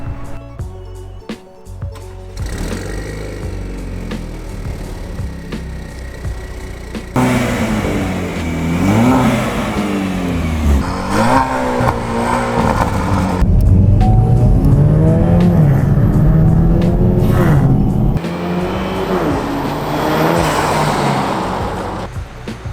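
A four-cylinder Camaro engine revs loudly through its muffler, rising and falling in repeated throttle blips and sustained high-rpm pulls, close and continuous across the stretch.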